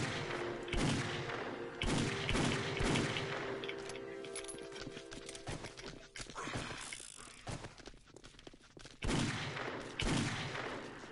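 Magnum handgun fire in a video game, several loud separate shots spaced irregularly, with mechanical clicks and thuds between them.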